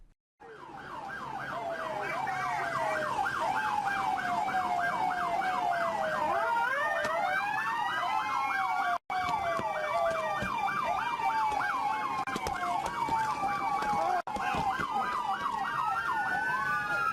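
Wailing ambulance siren pursued by paparazzi, a rapid rising-and-falling electronic yelp that swells close and then continues, with a second siren overlapping and faint road noise underneath.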